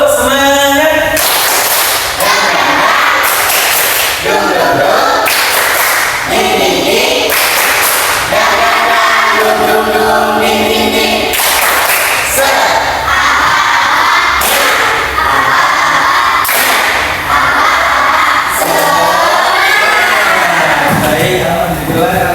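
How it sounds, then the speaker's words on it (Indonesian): A classroom of children does the 'tepuk semangat' clapping chant, loud shouted voices in unison over rhythmic bursts of group claps that come in repeated patterns throughout. "Oke, tepuk semangat."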